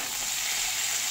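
Curry leaves sizzle in hot oil with cashews and chopped onion for rawa (sooji) khichdi, a steady close frying hiss throughout with no talk.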